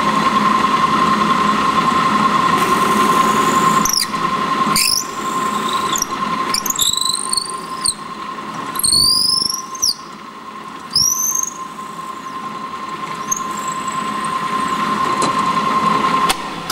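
A drill boring through a wooden pen blank gives a steady, close whine laced with repeated high squealing chirps for the whole stretch, with no talk.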